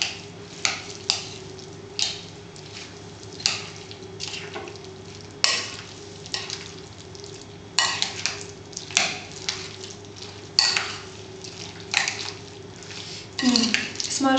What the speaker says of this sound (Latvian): Visu uzmanīgi samaisam.